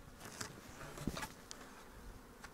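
Honey bees buzz faintly around an open hive, a soft, steady hum with a few closer passes briefly rising above it.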